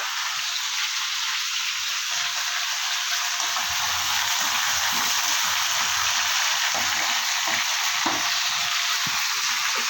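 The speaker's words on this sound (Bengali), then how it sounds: "আর এদিকে আমি পাঁচ মিশালি সবজিটাও বসিয়ে দিয়েছি তেলে আগে একটু ভালো করে কষিয়ে নেব সবজিগুলো" Mixed vegetables (five-vegetable mix) frying in oil, a loud continuous dense sizzle with faint stirring knocks underneath, close and steady throughout.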